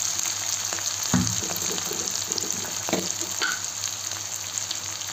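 Onions fry in a pan with salt while making a chicken dish, giving a continuous close sizzle with a few sharp stirring knocks and soft scrapes, no speech.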